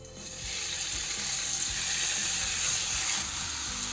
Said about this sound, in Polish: Mięso smażymy na rozgrzanym oleju.